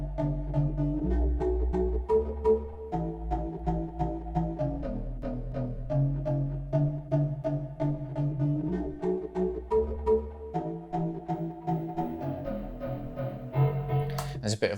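A deep house FM synth bass plays a steady, looping low groove with bouncing ping pong delay echoes and a touch of room reverb toward the end, heard alone and fairly loud throughout.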